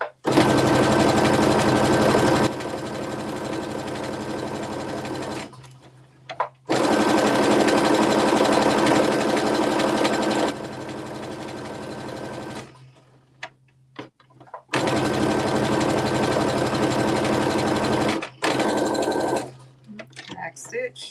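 A sewing machine stitching fabric in three long, loud, continuous runs close by, with brief handling pauses between, as a person talks over the work.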